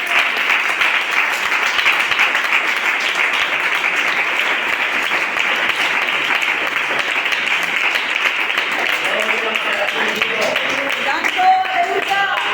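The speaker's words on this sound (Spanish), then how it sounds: "Da un aplauso al Señor" A church congregation applauds together in sustained, dense clapping that holds steady for several seconds, with voices rising faintly beneath it toward the end.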